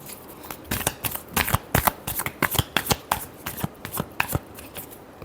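Tarot cards shuffled by hand in a rapid run of crisp, close riffling flicks and soft slaps, irregular bursts across a few seconds with no talk.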